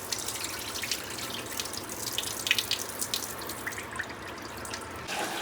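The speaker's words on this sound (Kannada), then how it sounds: "ಫಸ್ಟಿಗೆ ಅಕ್ಕಿನ ತೊಳ್ಕೊಬೇಕು" Rice is washed under a running kitchen tap, a steady, close stream of water splashing into a sink with small sloshing bursts throughout.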